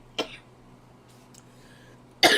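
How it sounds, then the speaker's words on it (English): A single short cough or throat-clear from a nearby person, one sharp burst followed by quiet room tone, then another harsh burst at the very end. "Still a little cough."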